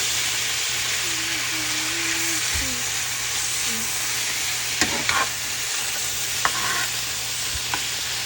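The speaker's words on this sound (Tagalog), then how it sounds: "Mix na natin ang noodles" Udon noodles with mushrooms and soy sauce sizzle in a hot pan, a steady close hiss of frying with scraping stirs and clinks, while a voice speaks briefly.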